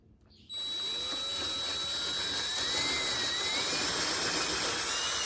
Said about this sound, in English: first step is to drill my depth for the bolt. So I'll go ahead and do that now.